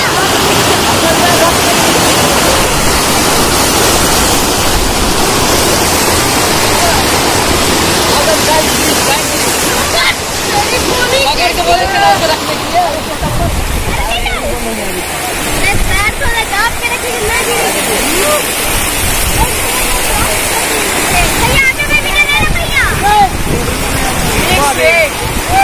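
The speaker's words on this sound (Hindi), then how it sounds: "ये लहरें पानी की इतनी तेज, इतनी तेज रफ्तार।" Fast, dangerous flood water in Bhagalpur, Bihar, India, rushes with a loud, continuous roar and churning surge throughout, and voices can be heard over it.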